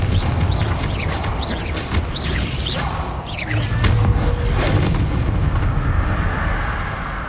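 Spell explosions and fiery whooshes from combat in Hogwarts Legacy, with repeated crackling blasts layered over a dense, loud rumble of battle, continuous throughout.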